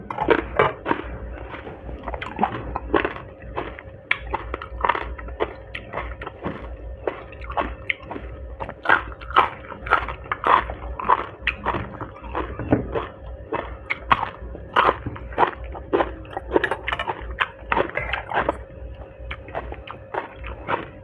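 Close, rhythmic crunchy chewing and biting while eating Thai larb with crisp vegetables, steady repeated bites over about twenty seconds with no talk.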